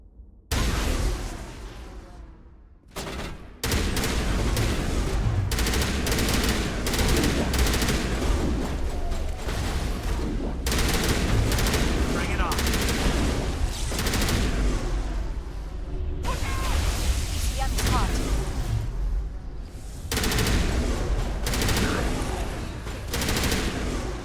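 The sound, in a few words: shotgun and assault rifle gunfire in video game Mass Effect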